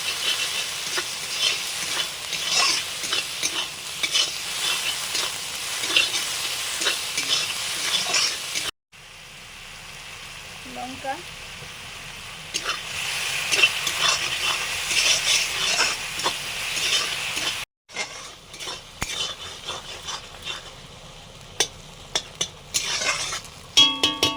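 Spices sizzle and fry in a pan with ginger paste, tomato and garlic, a steady crackling hiss stirred at intervals, close and loud, with a couple of abrupt cuts.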